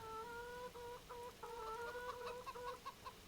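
Chickens cluck in the Farming Simulator 25 video game: a close, steady run of short tonal clucks and calls with no talking.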